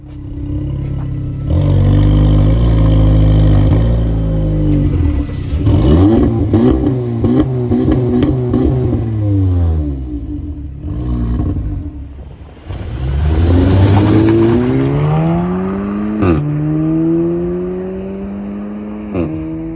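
An Audi sports car engine running on LPG gas idles, then revs hard several times, rising and falling in pitch, loud and close throughout.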